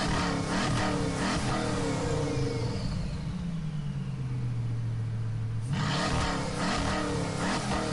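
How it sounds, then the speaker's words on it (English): A video game car engine revs up and holds, its pitch sliding down as it eases off, then roars again; a continuous, loud mechanical drone throughout. "I love the sound of an engine."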